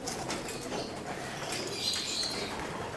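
Pigeons entering a loft over the landing board, a brief flurry of soft wing flaps and rustling close by, with a faint coo-like tone partway through and no talk.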